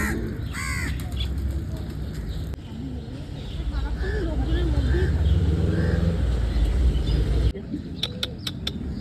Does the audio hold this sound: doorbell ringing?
no